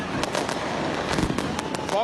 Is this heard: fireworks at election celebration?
yes